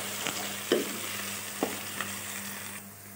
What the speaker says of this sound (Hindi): हम इसमें अदरक का पेस्ट ऐड करूँगी और इसको भी थोड़ा सा भून लूँगी प्याज के साथ